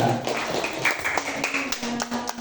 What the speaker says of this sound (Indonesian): tepuk tangan buat kelompok Sumatera.